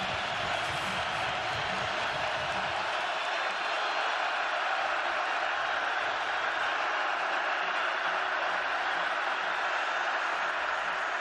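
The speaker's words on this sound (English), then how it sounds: "listen to this crowd right now" Steady roar of a packed college football stadium crowd at an Idaho versus Montana game, loud and continuous throughout with no voices standing out above it.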